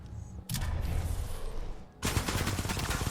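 Bursts of pistol gunfire in the video game Titanfall 2, dense rapid shots in two volleys separated by a brief lull, loud and close against a busy game backdrop, with no talk.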